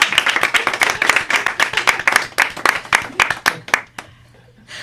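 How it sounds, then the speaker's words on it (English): A small studio group claps for the guests, close, crisp individual claps in a quick irregular run that thins out and stops just before the end, leaving quiet room tone. "let's give a round of applause for everyone"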